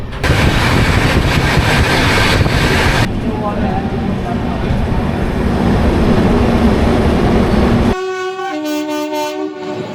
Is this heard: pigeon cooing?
no